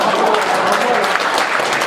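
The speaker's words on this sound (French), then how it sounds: "je me permets de solliciter une deuxième salle d'applaudissements" Conference audience applauding steadily, a dense even wash of many hands clapping close by, sustained without pause.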